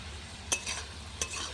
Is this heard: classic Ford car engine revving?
no